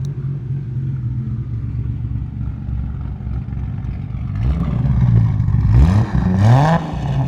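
A heavily modified R33 Nissan Skyline GT-R idles with a low rumble, then revs loudly several times in rising bursts, the throaty exhaust growing louder toward the end.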